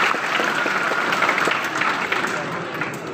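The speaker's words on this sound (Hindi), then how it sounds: "जोरदार ताली" Loud, dense applause from an audience at a community gathering in Umrangso, Dima Hasao, Assam, steady and sustained throughout with no break.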